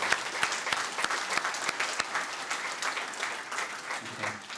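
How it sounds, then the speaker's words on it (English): Audience applause at a 2007 Limerick sports awards ceremony, a steady round of clapping from a crowd with sharp individual claps standing out, fading slightly toward the end. "I think they deserve a round of applause for their work."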